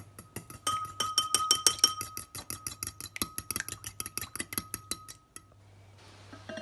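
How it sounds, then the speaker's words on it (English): Eggs whisked in a bowl for a cake batter, a rapid run of light clinking taps, about twenty strokes, close and fairly quiet, stopping abruptly near the end. "Okay, going to whisk my eggs."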